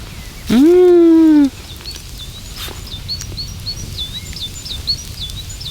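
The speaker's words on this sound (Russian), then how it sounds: "Слышите? Птицы поют, вообще здорово." Outdoors on a solo hike, birds chirp faintly and repeatedly in the background after one loud, sustained whistled call near the start, over a steady outdoor hiss.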